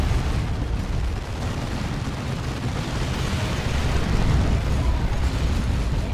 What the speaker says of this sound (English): That was a good plasma cannon shot on the Warboss and helps take him down there.